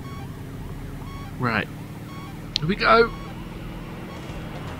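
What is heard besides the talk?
police car siren in video game Midtown Madness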